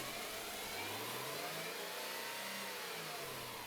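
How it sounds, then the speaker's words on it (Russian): A car engine is revved smoothly during a fuel-injector control pulse check, the pitch rising and falling gently in a steady, continuous drone with no voices. "Делаю плавную прогазовку"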